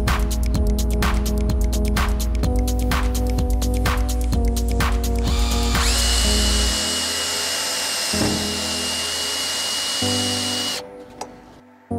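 Power drill driving metal screws through a shed roof into a steel rail, with repeated loud motor whines in rapid bursts, then a longer sustained high-pitched drilling run that cuts off near the end.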